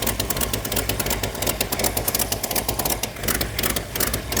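A high school car's engine idles with an exhaust leak at the middle port, giving a steady, busy ticking and puffing clatter over a low rumble, close up and continuous with no talk.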